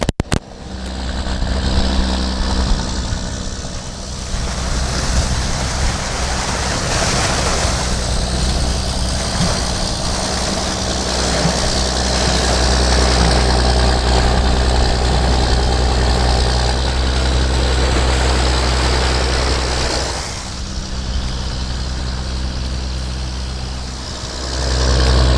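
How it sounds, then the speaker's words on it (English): A 95-20 tractor engine runs loud and close during manure spreading, a deep steady rumble with heavy low throb that swells and eases slightly over a long stretch, no talking. "This is a 95-20 tractor. I'm going to turn the camera around. This sounds beastly."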